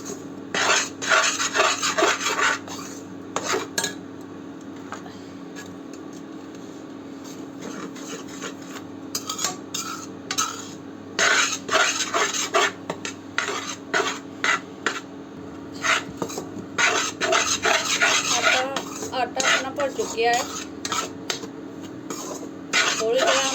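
Flour is roasted in a pan while being stirred for flaxseed sweet balls, with bursts of dry scraping and rasping against the metal that come and go over a steady low hum.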